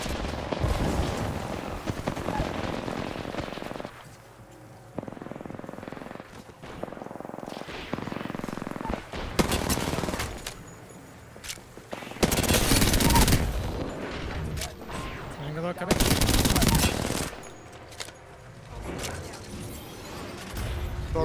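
Gunfire from the Apex Legends video game comes in several loud, sustained bursts of rapid automatic shots, with quieter shots and in-game noise between them.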